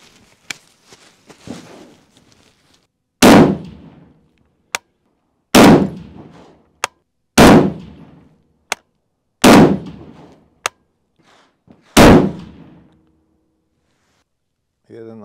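A Steyr AUG A3 rifle fires six loud, separate shots about two seconds apart, each with a sharp crack and a short ringing tail, with quieter clicks and handling noises between them and no talking.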